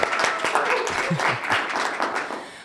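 A live audience applauds, brief and moderately loud clapping with a few cheers and voices mixed in.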